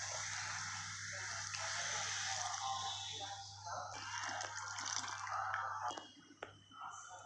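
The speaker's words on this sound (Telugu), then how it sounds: "600 ml ఆఫ్ వాటర్ యాడ్ చేసుకోవాలి" Water pouring into a suji halwa mixture of semolina and sugar, a soft gushing, splashing stream with drips that tapers near the end, heard close and fairly quiet without talk.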